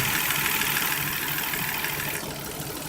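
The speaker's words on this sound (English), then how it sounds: "It's just a slight misfire, causes it to run a little rough." A car engine idles steadily up close with a slight misfire, its low rumble slightly uneven and rough, with no voices.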